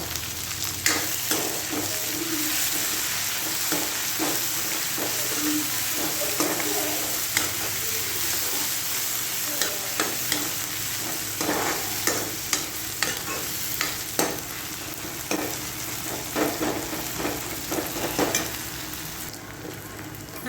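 Onions and green chillies frying in a pan for a ridge gourd sabzi, with a constant close sizzle broken by frequent clinking and scraping stir strokes, no voices over it.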